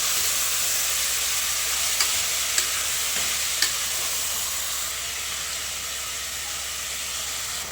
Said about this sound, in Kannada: ಕಾಳನ್ನ ಉಟ್ಕೋಬೇಕು, ಫ್ರೈ ಮಾಡ್ಕೋಬೇಕು.